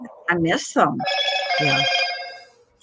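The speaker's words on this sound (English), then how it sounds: "That's my phone." A telephone rings with a steady electronic tone under a voice, starting partway through and fading out near the end while someone talks over it.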